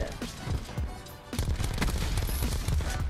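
Rapid gunfire from an S6 Stingray rifle in the video game Black Ops 4 crackles as a run of sharp, punchy shots with some boomy hits, fairly close and continuous across the moment, with a voice briefly talking over it.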